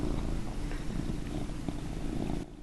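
A domestic cat purring close up, a steady low rumbling vibration that pulses with each breath, continuous and alone before fading slightly at the end.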